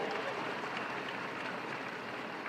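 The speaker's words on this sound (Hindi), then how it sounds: "यशस्वी प्रधानमंत्री का अभिनंदन करो, श्रीमान नरेंद्र मोदी जी का जोरदार ताली बजाकर।" A large crowd at a political event in Bhopal applauds steadily, a dense wash of clapping heard from a distance with no clear individual claps standing out.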